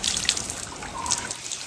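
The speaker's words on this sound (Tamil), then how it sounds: "தண்ணி இப்போ ஊறிக்கிட்டே வருதுண்ணே" Hot spring water welling up in a well at Kanniya, Trincomalee, Sri Lanka, makes a steady close-up hiss of running, trickling water with faint splashes and no voices.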